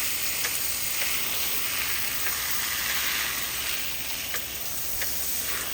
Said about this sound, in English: The ticking sound you're hearing is the fertilizer injector injecting the fertilizer and